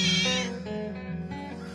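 Several domestic cats meow in a plaintive, harmonic run that starts loud and close, then trails into softer, wavering cries without any talk.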